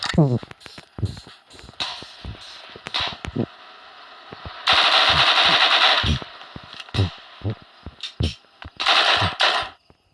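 Rapid video game gunfire bursts in a war game, with loud automatic volleys and sharp single shots coming in clusters amid excited talking and shouting.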